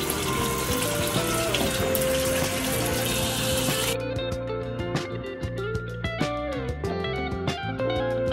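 Tap water runs steadily while a face is rinsed at a sink, a continuous close hiss for about four seconds that then cuts off, leaving scattered clicks and drips.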